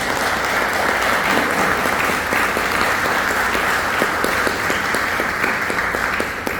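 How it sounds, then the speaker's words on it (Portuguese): Church congregation giving a sustained round of applause, dense steady clapping filling the room from start to finish with a faint murmur of voices underneath. "dá uma salva de palmas para o Senhor"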